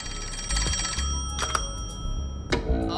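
A telephone rings in the video game Master Detective Archives: Rain Code, a loud, close electronic bell trilling in short repeated bursts over a low rumble.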